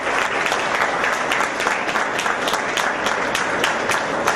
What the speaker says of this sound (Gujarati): આપણે સૌ આપણી પરંપરા મુજબ આપણા તાળીઓના ગડગડાટથી એમનું સ્વાગત કરી